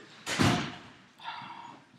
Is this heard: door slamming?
yes